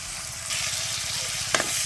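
A spice masala of salt, turmeric and chili powder sizzles and fries in a pan, with a steady close crackle, a louder hiss after half a second and a brief scrape of stirring near the end.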